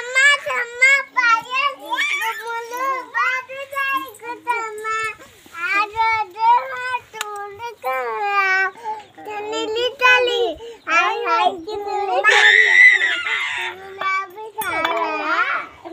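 Several young children shout and chatter excitedly over one another, loud and close, in high-pitched, continuous bursts of playful noise.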